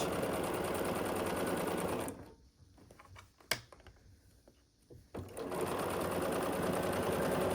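A sewing machine stitches the seam of a quilted Christmas stocking with a loud, steady mechanical whir. It stops for a few seconds of quiet handling clicks, then starts stitching again.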